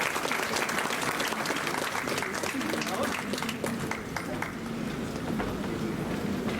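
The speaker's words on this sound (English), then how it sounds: "Big round of applause for Mr. Mahesh Kumar." Audience applause at an Independence Day awards ceremony at IIMT University in Meerut: a steady, dense wash of clapping holds for the whole stretch, with a voice or music faintly underneath.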